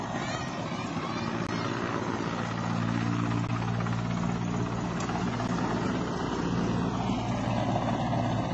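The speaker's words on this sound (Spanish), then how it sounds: "Helicópteros están lanzando gas lacrimógeno a ellos." A helicopter flies overhead during a police crackdown on farm workers, its constant low rotor throb and engine drone steady and fairly distant, with faint voices underneath.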